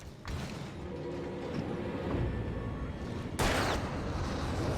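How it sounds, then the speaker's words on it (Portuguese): Explosion in the horror video game Alan Wake, a loud broadband burst erupting about three seconds in over a dense, rumbling backdrop of game noise and scattered impacts. "Olha a explosão"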